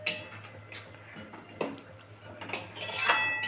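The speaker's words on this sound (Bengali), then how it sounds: "এবার একটু ফুটুক, একটু ঢাকা দিয়ে দিই।" A lid clatters onto a metal cooking pot of simmering musur dal with a katla fish head, giving several sharp metallic clinks and scrapes, close and fairly loud, with no talking.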